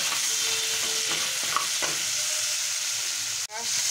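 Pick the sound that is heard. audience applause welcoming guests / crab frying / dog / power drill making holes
crab frying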